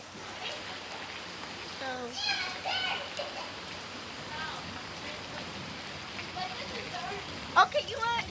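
Steady rain patters on surfaces outdoors during a thunderstorm, a constant wash of drops with a few sharper splashes near the end, while someone speaks over it.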